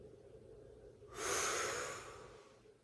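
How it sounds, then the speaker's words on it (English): During a Pilates exercise a single deep, breathy inhale rises close to the mic, swells and fades over a quiet background. "Breathe in deep."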